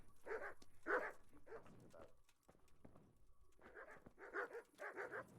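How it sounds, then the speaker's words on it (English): Several dogs bark in repeated bursts inside a video game, loud and close, with a short lull midway before a fresh cluster of barks; no one talks over them. "There's a lot of doggies."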